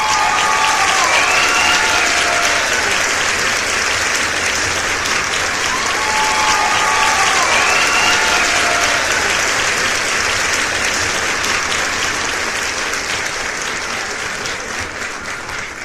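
An audience claps for a woman introduced on a show, a loud continuous wash of applause lasting many seconds, with a few faint whistles early on and a slight fade toward the end.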